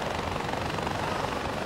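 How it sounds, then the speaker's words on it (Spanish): Helicopter in the video game Far Cry 4, a steady loud rotor and engine drone filling the whole short stretch with no pauses and no talk. "Así que viene mejor esto, el helicóptero."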